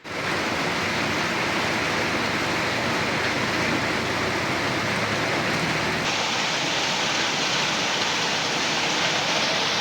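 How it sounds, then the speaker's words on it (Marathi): Heavy monsoon rain in Pune, heard from indoors, makes a dense, loud, unbroken hiss that holds steady throughout with no voices. "आज तर जोरदार पाऊस आहे"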